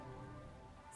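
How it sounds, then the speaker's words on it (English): Soft, steady rain patters in the Master Detective Archives: Rain Code video game, a faint even hiss of falling water with no talking. "More rain."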